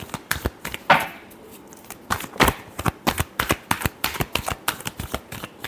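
Tarot cards being shuffled by hand in a run of quick, crisp riffling bursts and slaps that come in an uneven rhythm, close up and fairly loud, with no talking.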